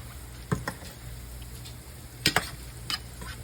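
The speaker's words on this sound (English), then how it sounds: "And then I have my fries in here as well. I'm gonna mix this up." French fries mixed and sizzling on a griddle for a chopped cheese sandwich, a steady low sizzle broken by a few sharp scraping clacks of a spatula, close and fairly quiet.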